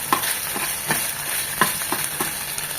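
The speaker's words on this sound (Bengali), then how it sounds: "হাফ চামচ আদা রসুনের পেস্ট এই তেলে একটু ভেজে নেব" Half a spoon of ginger garlic paste fries in oil, giving a steady sizzling hiss with light taps and scrapes of a spoon stirring at an irregular rhythm, close by and with no voices.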